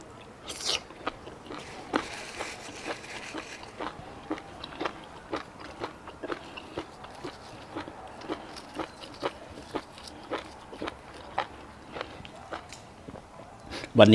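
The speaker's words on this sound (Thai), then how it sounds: "กรุบกรอบ" Close, repeated crunchy bites and chewing, sharp crisp clicks at an irregular rhythm over a quiet background.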